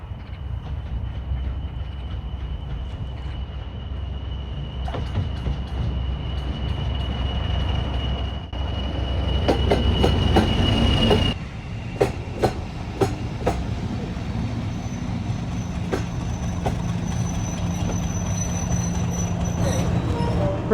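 A diesel train rumbles steadily along the rails of a heritage railway near Rawtenstall with a high wheel squeal, then rhythmic clicks of wheels over rail joints as it rolls on.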